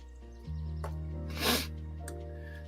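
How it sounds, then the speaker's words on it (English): A single quick sneeze bursts out over a low steady hum, short and close. "The question made me sneeze."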